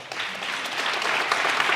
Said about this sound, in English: I'm glad that reserves got an applause.